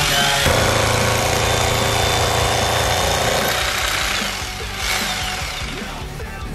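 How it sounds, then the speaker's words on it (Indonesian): Loud, continuous power-tool grinding of a masonry drill boring into a concrete wall, steady and close, easing slightly near the end. "Untuk ke bagian dinding kita bor menggunakan bor beton"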